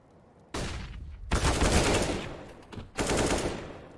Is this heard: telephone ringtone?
no